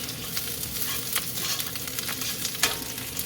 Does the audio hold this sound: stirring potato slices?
yes